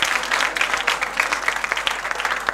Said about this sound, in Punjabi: ਉਹਦੇ ਲਈ ਤਾੜੀਆਂ ਵੀਰੇ।